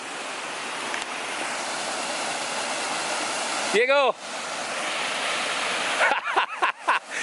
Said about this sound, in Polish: Wodospad! Wodospad!